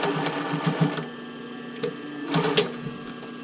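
A sewing machine stitches a bra cup overlay near the fabric edge, running in short buzzing bursts with brief pauses between, close and steady, alone without talk.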